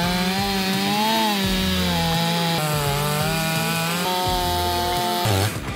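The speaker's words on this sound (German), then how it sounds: "einer Profisäge legen wir sofort los" A professional chainsaw cuts into wood for a carving bench made of parts about 12 cm thick. Its loud, steady engine whine rises and dips in pitch with the load, runs alone for about five seconds, then cuts off.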